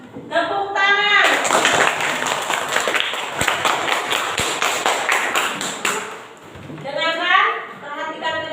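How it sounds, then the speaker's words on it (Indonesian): Classroom applause from children, a dense burst of clapping lasting several seconds, framed by a voice speaking before and after. "Tepuk tangan."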